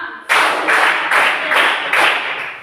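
Five sharp, evenly spaced hand claps in a Indonesian classroom counting chant, each burst loud and close, separated by brief gaps.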